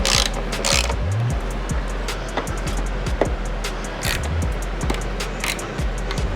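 A ratchet clicks in quick, repeated bursts while bolts on a Cusco rear lower power brace are tightened under a GR Supra, with metallic clanks and mechanical rattles throughout in a noisy garage.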